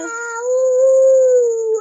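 A voice imitating a fox howl, a single sustained tonal wail rising slightly then held, close and clear against silence.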